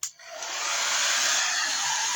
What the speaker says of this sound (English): I'm going to take a dryer to the back of this